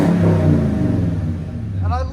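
A 2016 Toyota Tundra pickup with a 5.7L V8 and a 14-inch Magnaflow exhaust revs up, its deep engine note rising and falling up close, with a voice briefly talking near the end.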